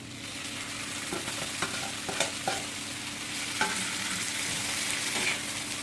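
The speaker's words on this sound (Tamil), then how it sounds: "நம்ம ரெடி பண்ணி வச்சுருக்கிற போட்டி குழம்பு எடுத்து இதோட மிக்ஸ் பண்ணிக்கோங்க" Boti pieces are stirred and fried in a pan with gravy for a pepper fry, a steady sizzle with scattered scraping ladle strokes, close and continuous without talk.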